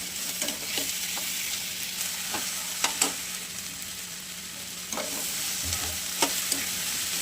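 Onion, cumin and tomato frying in a pan give a continuous close sizzle. Sharp spoon-against-pan taps and stirring scrapes land every second or so.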